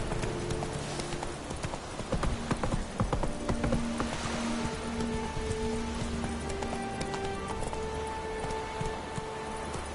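Hooves of the horse Roach pound in a steady gallop in a video game, loud and close, with a brief neigh and light rain-like patter around it.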